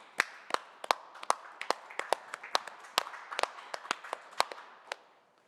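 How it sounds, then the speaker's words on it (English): Sparse, distinct hand claps from a small audience at a youth awards ceremony. The crisp individual claps arrive in an uneven rhythm, fairly close and moderately loud, with no talking. "Well, round of applause first."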